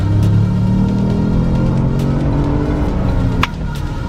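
A 2018 Ford Explorer SUV engine drones loudly and steadily, accelerating hard with a low, rising hum, then shifts slightly near the end.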